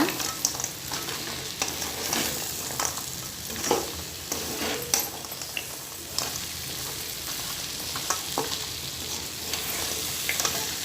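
Fried idli manchurian being stirred gently in a pan, a steady sizzle of frying with soft scraping and clinking of a spoon against the pan, close and continuous throughout.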